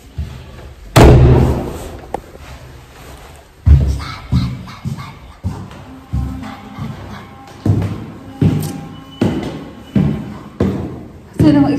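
A door opening and slamming at home, with one heavy slam early followed by a string of repeated thuds and knocks at a steady rhythm, close and loud, while people talk intermittently.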